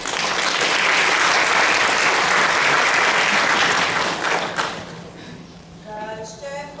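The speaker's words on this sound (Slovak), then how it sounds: "Uveďme ich na pódium potlesku." An audience applauds at a stage performance of a children's song, steady loud clapping sustained for several seconds before fading, with a voice beginning to sing as it dies down.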